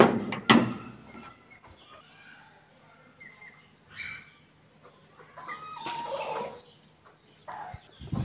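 Backyard chickens cluck and squawk in scattered, moderately close bursts over a quiet outdoor background, with a sharp loud sound at the start.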